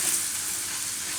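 Ground red chili being mixed into a sizzling oil tempering over a low gas flame for Kathiyawadi vagharelo rotlo, giving a brief, steady, close hiss of frying with no voices.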